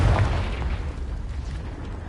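The Confringo blasting spell from Hogwarts Legacy detonates as a loud, close boom that opens with a sharp burst and then decays into a rumbling tail, with no speech over it.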